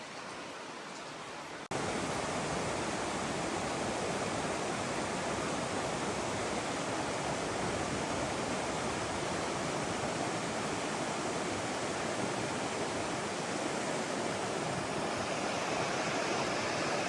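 A creek in north Georgia rushes with a broad, steady roar of flowing water, loud and constant after a brief quieter moment at the start, with no one talking.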